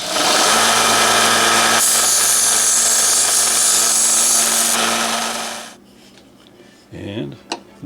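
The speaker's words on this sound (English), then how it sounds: "And grind that tip just a bit." A power grinder works the clipped tip of a metal part for a model railway display and storage wagon, a loud steady whine for about five seconds before winding down, followed by a few faint knocks.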